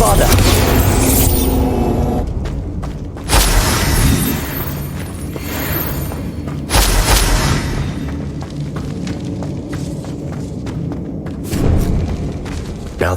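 Bombarda explosion spells detonate in a Hogwarts video game, with loud booming blasts bursting out at intervals over a continuous rumbling, busy game soundscape.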